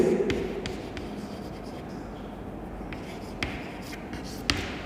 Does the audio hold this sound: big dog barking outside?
no